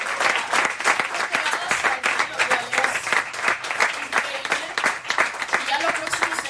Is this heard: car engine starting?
no